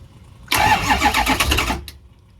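A diesel pickup truck with an injector fault, plugged in for 20 minutes, cranks briefly and fires up, settling into a loud rough clatter that cuts off abruptly after about a second and a half.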